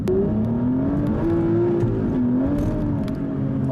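A 2016 Aston Martin V12 Vantage S accelerates with a steady, droning engine note that rises and shifts pitch as it pulls, heard from inside at a moderate level.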